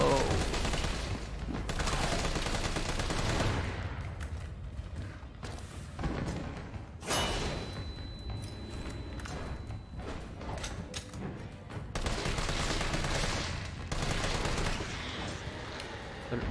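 Rapid bursts of gunfire in the video game Resident Evil 3 Remake crackle in dense volleys, with short pauses between strings of shots, loud and close.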